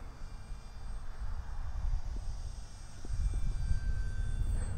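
An Arrows Bigfoot RC airplane engine runs at full throttle overhead, a faint, steady droning whine carried over outdoor wind rumble that swells slightly toward the end.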